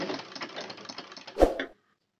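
A sewing machine whose feed dogs are jamming fabric stitches in a short, quiet run of rapid mechanical whirring and ticking, ending in a louder clunk before stopping.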